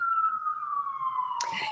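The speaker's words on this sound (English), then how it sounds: "yeah, there's a siren." A single long siren tone slowly falls in pitch, then a voice cuts in briefly near the end.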